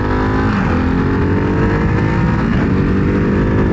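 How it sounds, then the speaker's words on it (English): A 2024 Ducati Hypermotard 698 Mono single-cylinder motorcycle accelerates hard in sport mode, its engine note loud, close and continuous with a steady roar and strong low-end rumble throughout, no voices. "Sport mode really rips this bike."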